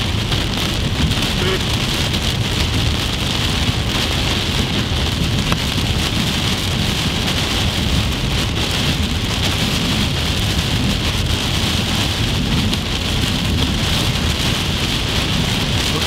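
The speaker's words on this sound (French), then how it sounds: "Oh, il y a un masse vent de ouf mec dehors." Heavy rain pours steadily with a constant roaring hiss, with gusty wind noise mixed in throughout, outdoors during a storm chase in Tornado Alley, USA.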